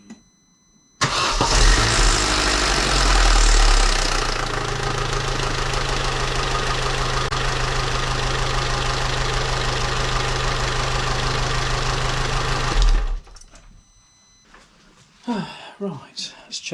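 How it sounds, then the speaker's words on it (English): A Vauxhall Corsa C cranks and fires after an oil change, then settles into a loud, steady close-up idle for about ten seconds before shutting off. Brief voices follow afterward. "start it up, run it for a few seconds, make sure the oil pressure light goes out"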